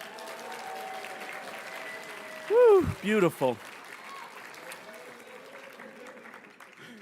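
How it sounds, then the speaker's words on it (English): Applause and cheering from a gala audience after a drum performance, a steady crowd clapping with a few loud whoops and shouts rising briefly over it. "Let's give them one more round of applause."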